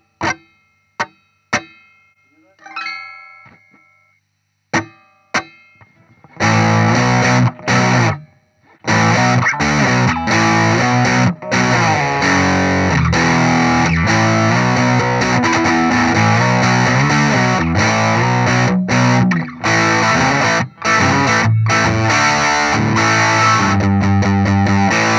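Ibanez AMH-90 CRF hollowbody electric guitar from 2021 with overdrive: a few sparse plucked notes and a strum at first, then loud, sustained driven rock chords and riffs played continuously with brief stops.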